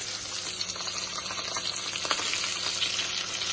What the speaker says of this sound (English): And I'm slowly dragging it in the oil.